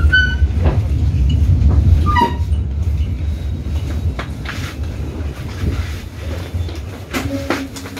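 Serayu train arriving at Maos station, a low rumbling approach with brief high squeals and tonal blips early on, the rolling noise easing and fading as it slows, with scattered knocks and clanks.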